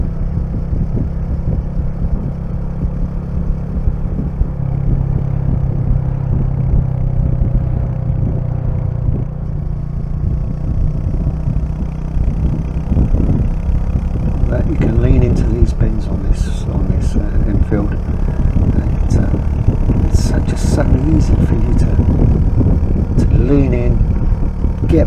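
Light motorbike engine cruising steadily at about 50 mph on an open stretch of road, a continuous close drone with wind rush and slight pitch shifts throughout, a voice talking over it.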